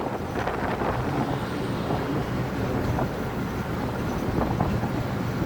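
A steady, loud rumbling roar of a passenger train in motion between Joydebpur and Kamalapur, Bangladesh, with wind buffeting the microphone throughout and no voices.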